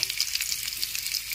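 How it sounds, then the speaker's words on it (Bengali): Chopped onions fry in hot spiced oil for chicken kosha, a close, continuous sizzle with small crackles and pops and no voices. "এখন এর মধ্যে মিশিয়ে দিচ্ছি 2 পেঁয়াজ কুচি।"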